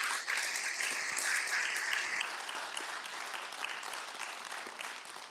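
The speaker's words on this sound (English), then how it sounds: "If we can give one more round of applause for Mr." An audience at an evening event honoring Kenny Mann Jr. gives a steady, dense round of applause, many hands clapping together and sustained, slowly tapering toward the end.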